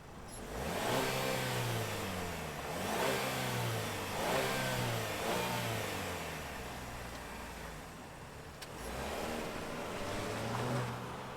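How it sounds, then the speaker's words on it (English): A turbocharged 2024 Cadillac XT4 Sport compact SUV runs and revs in repeated rising and falling surges, a steady mid-pitched engine drone heard from close by with no talk. "let's fire this thing up and see this Cadillac roll"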